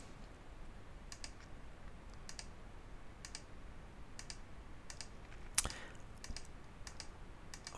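Sparse, light mouse clicks while placing polygonal lasso points in Photoshop, about a dozen single or paired taps at an unhurried pace, faint and close, with one sharper louder click partway through over a quiet background.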